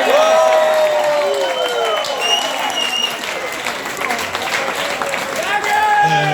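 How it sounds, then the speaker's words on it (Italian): A concert audience at a reggae show breaks into loud, dense applause mixed with cheers and whoops, steady throughout, with a voice speaking over it. "fatevi un applauso."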